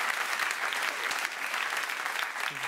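A theatre audience at a French comedy stand-up show applauds, a dense, steady wash of clapping that stays even throughout, with a faint voice near the end.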